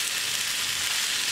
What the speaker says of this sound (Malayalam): അരി ശരിക്കും വിട്ട് വരുന്നവരെ നന്നായിട്ടൊന്ന് വറുത്തെടുക്കണം.